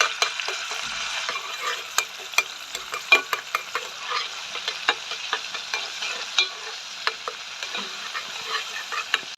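Crushed garlic sizzling in a couple of spoonfuls of oil in a pot, a steady bright frying hiss with sharp ticks and clinks from stirring, close and alone without talk.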